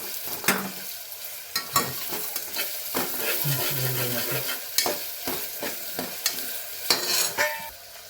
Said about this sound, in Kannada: ಅದು ಸ್ವಲ್ಪ ಚೆನ್ನಾಗಿ ಗೋಲ್ಡನ್ ಬ್ರೌನ್ ಬರೋವರೆಗೂ ಈರುಳ್ಳಿನ ಫ್ರೈ ಮಾಡ್ಕೋಬೇಕು